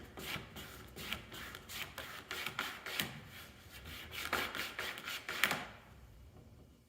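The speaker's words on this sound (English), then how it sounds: "Squeegee." A squeegee dragged repeatedly across opaque white window film during installation, producing a series of close, quiet rubbing swipes in an uneven rhythm before falling silent near the end.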